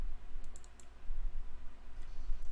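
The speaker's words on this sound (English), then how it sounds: "If I double click on this again" A computer mouse gives a few quick, faint clicks, including a close double click, against a quiet room hum with no talking.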